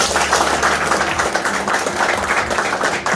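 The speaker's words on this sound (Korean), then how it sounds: "큰 박수로 다시 한번 드리겠습니다." A crowd applauding at the opening ceremony of an election campaign office, dense steady clapping that stays loud and continuous throughout.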